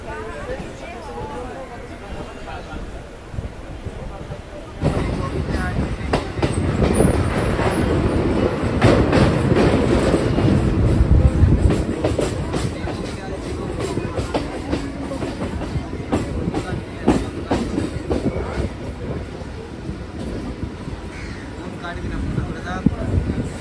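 A Barasat local train pulling into platform 3 at Dum Dum station, a loud rumbling roar with rapid rhythmic wheel clatter building in after a quieter start and carrying on close by throughout.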